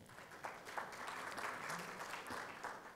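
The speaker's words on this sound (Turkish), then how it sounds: "Alkışlarınızla." Audience at a Turkish ethics and economics council opening session claps as a bank executive is invited onto the stage, a short stretch of faint, steady applause heard from a distance.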